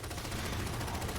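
Rapid automatic gunfire from a Halo 4 battle against Knights, a dense, continuous burst of shots throughout that sounds loud and close, with no voices over it.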